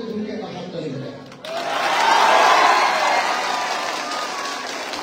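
A crowd applauding at a political rally, a broad wash of clapping and cheering that swells suddenly after a speaker's voice and holds loud and steady to the end.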